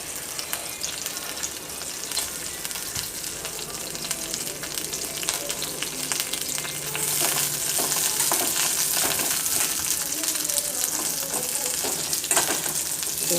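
Chillies fry in hot oil in a pan with a continuous loud sizzle and crackle, growing slightly more intense midway, with occasional stirring scrapes and no talk.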